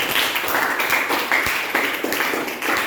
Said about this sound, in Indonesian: Beri tepuk tangan buat kelompok 1.